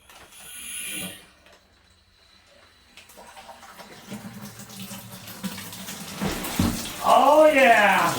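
Water from a tap is pushed through a line: a soft hiss and gurgle builds up, then ends in a louder rushing gush, with a little faint background noise.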